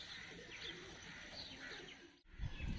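A tumbler pigeon (karnam pura) coos in soft, repeated low calls outdoors, faint and slightly distant, against a hissy background, with a louder rustle near the end.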